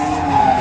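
A gymkhana car spinning donuts, its tires skidding in one short, harsh, steady screech heard up close.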